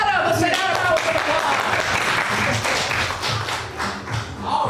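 An improv student showcase audience claps for a volunteer, dense uneven clapping with some taps and thumps, loud and close throughout.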